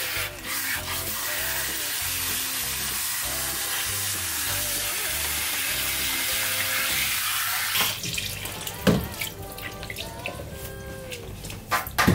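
Warm water from a shower head running over hair during a shampoo at a Japanese barber shop, a steady close hiss that thins toward the end, broken by handling splashes and wet scrubbing.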